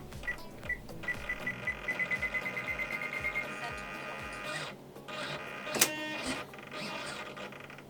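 JP Hobby ER-010 electric nose gear retract on a model CASA C101 jet running through its motion: a quiet mechanical whir with a rapid rhythmic ticking pulse, a sharp click near the end, then faint servo buzzing.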